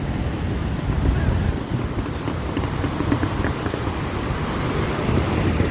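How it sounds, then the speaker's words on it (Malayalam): Rough sea at Vizhinjam beach, a broad continuous roar of strong waves crashing and surging close by, mixed with gusty wind buffeting the microphone and no voices. "കടൽ ശക്തമായിട്ട് അടിക്കുന്നുണ്ട്"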